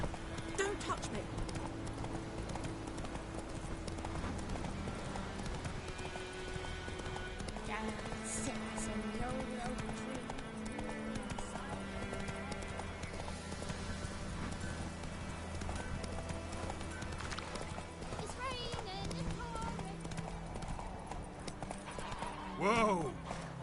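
A horse's hooves clop rhythmically in a fast gallop across The Witcher 3 game world, with steady footfalls under game music and bits of character dialogue.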